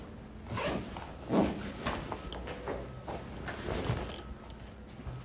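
Clothing zipper with hair caught in its teeth, giving several short scratchy rasping tugs, close and fairly soft, with no talk.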